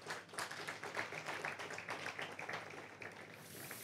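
An audience at a heritage council commemoration of the Rivonia Trial anniversary claps for a speaker, a faint but continuous patter of many hands with fairly even, rapid beats.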